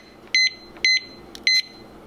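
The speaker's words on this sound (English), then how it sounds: "I will set my Pampered Chef timer that I just keep right by the stove" A Pampered Chef kitchen timer kept beside the stove gives three short, sharp electronic beeps while it is being set, each clear and close, with brief quiet gaps between them.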